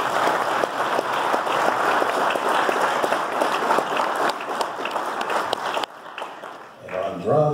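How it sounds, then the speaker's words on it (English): An audience at a Hutchinson Community College jazz and BBQ concert night claps loudly and continuously for several seconds. The applause then cuts off abruptly, and a voice begins speaking as it fades. "Please give EJ a round of applause"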